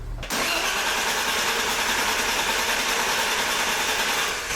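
A BMW E34 that is out of gas, its starter cranking continuously in a loud, close, steady churn without the engine catching.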